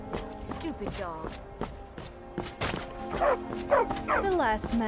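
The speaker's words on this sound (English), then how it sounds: "Stupid dog." A dog in the Skyrim video game barks and yips in a quick run of short calls, mixed with whimpers, heard close over game sounds while a voice speaks.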